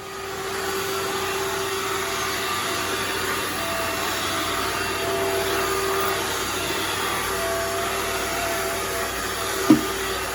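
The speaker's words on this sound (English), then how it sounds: "This is a neat little old vacuum." Steady whirring drone of an old Swerve vacuum cleaner running continuously, close and constant, with a brief knock near the end.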